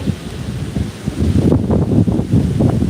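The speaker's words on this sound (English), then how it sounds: "it's really windy" Strong wind buffeting the microphone, a steady low roar with gusty surges that grow rougher partway through, with no one talking.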